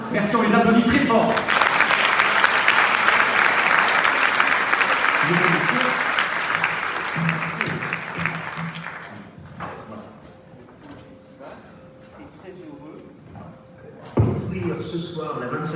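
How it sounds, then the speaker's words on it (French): A festival audience claps loudly and steadily at an opening ceremony, the ovation fading after several seconds into room murmur with a faint tone and a brief bump at the end. "Merci, on les applaudit très fort."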